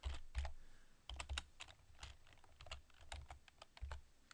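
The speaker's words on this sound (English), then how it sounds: "then we'll another pipe character, and then just type yes" Computer keyboard typing while entering WooCommerce product option text, a quick irregular run of clicking keystrokes in short bursts, close and fairly quiet, with no talking.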